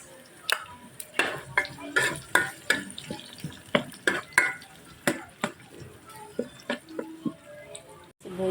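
Onion fries and gets stirred in a pan with ginger for beef pares. A spoon scrapes and clatters in quick repeated strokes close by, over a soft sizzle.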